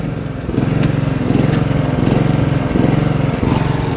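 John Deere GX75 lawn tractor engine running with its mower blades not engaging, a loud close small-engine putter with a rapid steady pulse and slight rhythmic surges, no voices.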